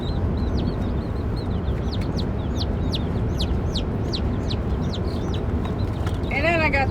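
Backyard chickens, including a gray hen, clucking and peeping in quick repeated calls over steady background noise, close by, with a brief higher squawk near the end.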